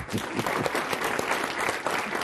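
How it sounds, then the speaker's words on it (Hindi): A television studio audience claps together during a Hindi political debate show, a dense, steady round of applause that stays loud and even for its whole length with no voices over it. "चलिए, ताली बजा दीजिए इनके लिए।"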